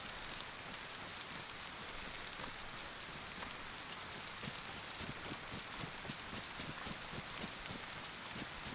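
Steady, dense rain falls across a DayZ game world, a constant hiss with scattered droplet ticks and no voices.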